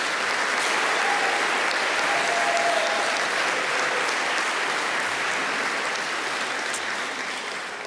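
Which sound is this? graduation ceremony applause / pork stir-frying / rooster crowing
graduation ceremony applause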